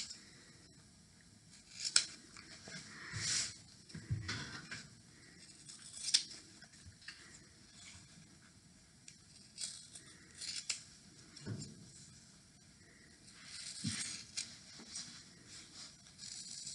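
Scissors cut through pillowcase fabric, trimming loose threads along a sewn edge. The snips are quiet and close, come in irregular clusters over a faint background, and there is no talk.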